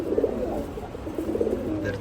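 Chila pigeons cooing while being paired for breeding, soft low murmuring coos repeating in two short bursts against a steady background hum, close by and fairly quiet.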